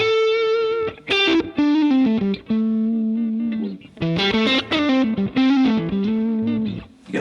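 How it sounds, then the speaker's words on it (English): High-gain distorted electric guitar through a Mesa Boogie Mark 1 reissue amp, played as loud sustained notes and chords with short gaps, screaming and saturated. "you can for sure get some really kind of screaming tones"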